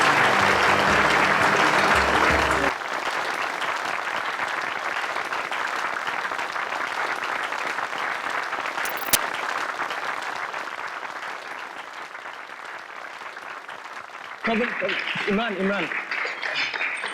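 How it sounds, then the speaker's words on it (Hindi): A studio audience on a television show bursts into loud, sustained applause that continues steadily for several seconds, briefly interrupted by a short change in sound before the clapping swells again. "जोरदार तालियां प्लीज।"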